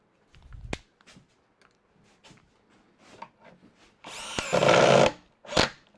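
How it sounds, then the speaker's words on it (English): A power drill drives screws into a lathe cart, with a loud close whirring burst of about a second and a shorter burst after it, following scattered taps and handling noises in a quiet workshop. "now I'm going to put the screws in there"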